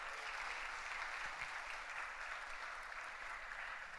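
A convocation audience at the Manipal Academy of Higher Education Dubai campus gives a steady, distant round of applause, a dense even patter of many hands lasting the whole stretch with no voices.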